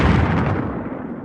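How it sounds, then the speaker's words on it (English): Torpedo blast striking a starship, a heavy booming explosion sound effect that hits at once and rumbles away over about a second. "The ship is pounded by a torpedo blast."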